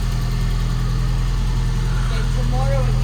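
A Ford Bronco's engine idles steadily just after a battery change, a close, constant low rumble with people talking over it.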